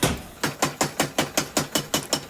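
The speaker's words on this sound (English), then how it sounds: "you've observed the rhythm of the hammer" A hammer forges a Damascus steel billet for a chef knife. About ten loud, close strikes land in a steady, even rhythm, with no voices.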